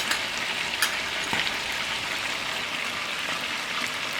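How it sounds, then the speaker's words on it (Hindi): Chicken fries in oil in a karahi, producing a loud, close, rain-like sizzle that hisses evenly throughout with a few brief crackles and no talking. "पहले ऑयल में थोड़ा सा इसे फ्राई करेंगे"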